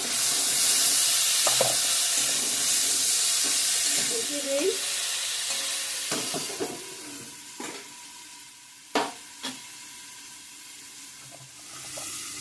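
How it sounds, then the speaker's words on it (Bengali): Salt, turmeric and spices sizzle steadily in a hot pan for a rohu fish curry, with a few light clinks and scrapes of stirring and no voices. "বাকি মশলাগুলো পরে দেবো একটু ভাজা ভাজা করে নিই"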